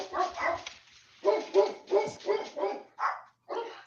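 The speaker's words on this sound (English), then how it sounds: "And we have dogs." Dogs bark in a close burst of repeated, fairly loud woofs with short gaps, some higher yips mixed in, and no talk over them.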